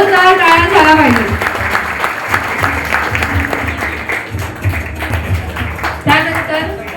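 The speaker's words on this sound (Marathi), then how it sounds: "जोरदार टाळ्या झाला पाहिजे।" Loud clapping from an audience at a police handover ceremony where stolen property is returned, sustained throughout, with an amplified voice speaking over it at the start and end.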